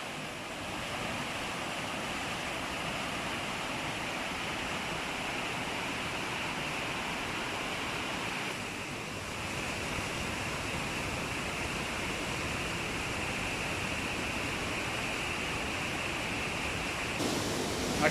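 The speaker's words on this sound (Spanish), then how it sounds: "esconde cosas magníficas como una bella cascada llamada el Salto del Diablo" Steady, dense roar of the Salto del Diablo waterfall on the Río Claro in the mountains of Támesis, Antioquia, Colombia: broadband rushing water that stays constant and loud throughout, with no voices.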